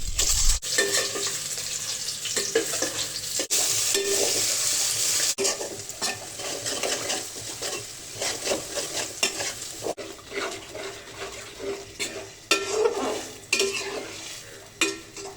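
Boiled eggs frying in a pan, a close sizzle with frequent scraping and clattering of a spatula stirring against metal, loud at first then more uneven with sharp knocks; no speech.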